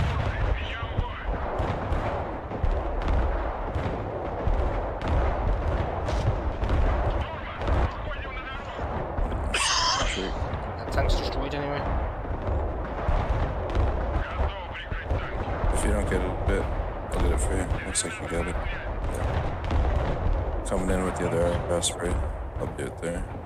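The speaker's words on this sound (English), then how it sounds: "Even more Ospreys. Going for another gun run." Osprey tiltrotor aircraft making a gun run in the military strategy game Broken Arrow, with a dense, continuous clatter of rapid gunfire and booming artillery-like blasts filling the scene, while a person talks over the battle noise.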